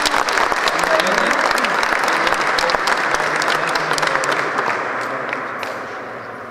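Audience in a hall breaking into loud, dense applause that holds steady and then gradually thins toward the end, with some crowd voices underneath.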